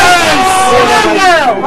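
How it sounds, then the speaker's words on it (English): A crowd cheers loudly at a poker championship: a dense roar of many voices with whoops and yells that swell and fall, close and continuous throughout. "listen to the cheer if Mary Hand holds up."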